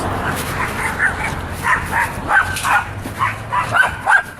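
Several dogs barking and yipping in a room, a busy overlapping run of sharp close barks and whimpers, with a low background hum and a voice briefly underneath.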